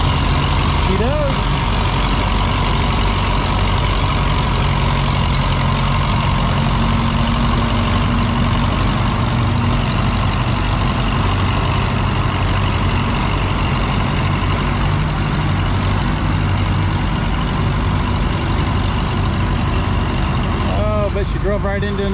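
A pulling tractor's engine drones loudly and steadily as it churns through a soft, mushy track at a tractor pull, with a public-address voice heard over it.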